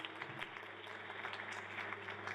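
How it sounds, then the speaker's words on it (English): An audience at a Konnect Kouch talk session applauds a guest, a steady, moderately faint wash of clapping lasting a couple of seconds with a low hum underneath. "Please, round of applause for him,"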